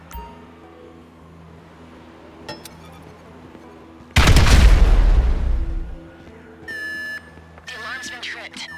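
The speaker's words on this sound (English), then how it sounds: "An explosion will tend to do that." An explosive charge blows a door open during a raid in the video game GTA V, a sudden loud blast that erupts after quiet ambience and decays over about two seconds, followed by electronic beeps and alarm-like tones.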